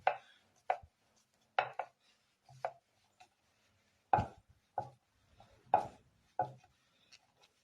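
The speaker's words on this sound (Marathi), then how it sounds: "आता आपण त्याला छान मळून घेऊया परत एकदा" Maida dough for modak is kneaded by hand, producing a dozen or so soft, close thumps and presses at an uneven pace, quiet and alone with no talking.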